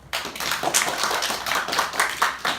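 Brisk applause from a group, many hands clapping together in a dense burst lasting a couple of seconds.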